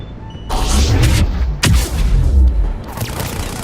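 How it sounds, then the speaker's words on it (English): Video game explosions in Mass Effect 3: a deep booming blast at about half a second, a second sharp bang near the middle, then rumbling debris and lower-level thuds trailing off, loud and close throughout. "That explosion was underwhelming."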